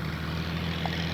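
An FMS F4-U Corsair RC warbird model with a 1400 mm wingspan makes a flyby, giving a brief steady whirring propeller drone at constant loudness over open-air background.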